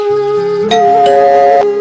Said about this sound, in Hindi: एक दिन संडे वाले दिन किसी अजनबी ने दरवाजे की घंटी बजाई।